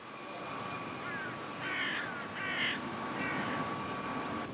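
Several crows caw in short, harsh bursts over steady outdoor background noise and a faint continuous hum.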